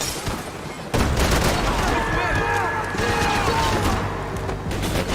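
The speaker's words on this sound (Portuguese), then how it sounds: "tiro pra tudo que é lado" Heavy gunfire in the video game Max Payne 3, dense overlapping shots and bursts that jump sharply louder after the first second, with someone talking over the fighting.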